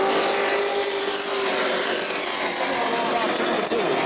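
Sportsman race cars on an oval track at New Smyrna, a continuous roaring engine drone from several cars passing at speed, with an announcer talking over it.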